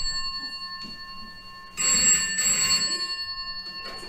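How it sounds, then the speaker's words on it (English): A telephone bell rings in a busy lunch counter setting, a loud, steady electronic trill with sustained tones that swell in two bursts after a quieter opening, heard alone with no voices. "Answer the telephone."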